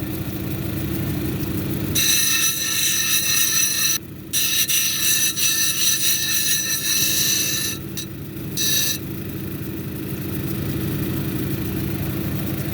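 A grinding wheel rasps steadily against a Silver Lace Onyx cabochon as it is shaped into a dome, loud and close under a motor hum, with a couple of brief breaks where the stone lifts off.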